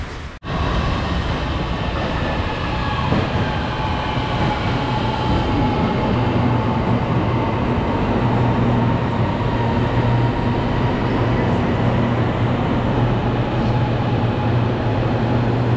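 A light rail train in Kuala Lumpur, Malaysia rumbles steadily from inside a carriage, with a continuous loud hum and faint rail clatter.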